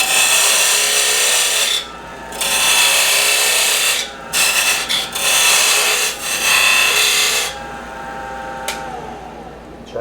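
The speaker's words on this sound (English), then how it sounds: "I'm going to make that cut using a parting tool." A parting tool cutting into a wooden box turning on a faceplate lathe, a loud, harsh scraping whine in several long passes with short pauses between them, ending in a softer, lighter cut.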